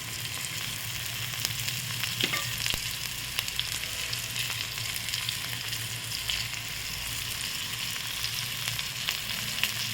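Stuffed bitter gourd fries in a pan with a steady, moderately loud sizzle and scattered small crackles and pops, continuous throughout with no voices.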